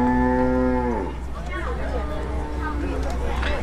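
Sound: Ankole cattle mooing

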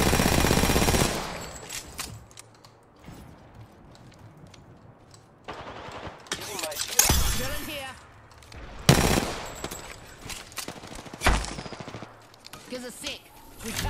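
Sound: gunfire in the video game Apex Legends

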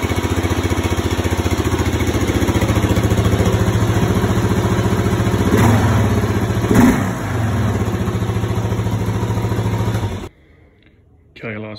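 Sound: Kawasaki KLR 650 gen 3 motorcycle with Delkevic 350mm oval exhaust, baffle in

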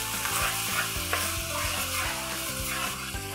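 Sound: sautéing garlic ginger paste on a tawa

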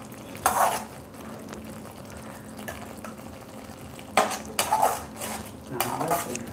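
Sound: tomatoes sautéing in pan

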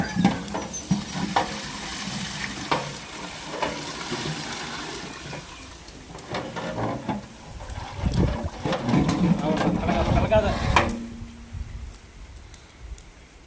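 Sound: tempering spices sizzling in oil for pepper rasam

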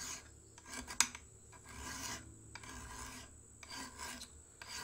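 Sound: squaring a bushcraft knife spine to 90 degrees

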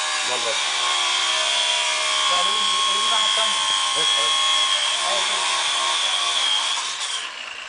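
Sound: angle grinder running during plumbing work

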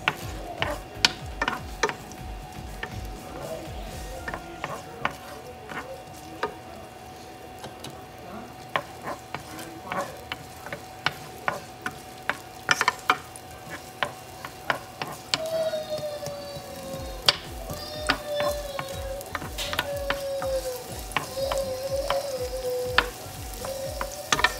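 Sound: sautéing garlic in a pan

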